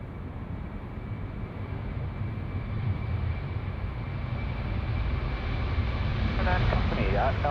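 A Qantas jet departs Sydney Airport, its engines a broad steady roar heard from a distance, slowly building over several seconds with no break.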